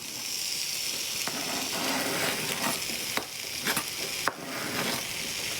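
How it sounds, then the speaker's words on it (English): Steady, loud sizzling of onion frying in a pan for bolognese, with occasional scrapes and clicks of stirring breaking through the hiss. "No, it's sizzling. It's a little sizzly."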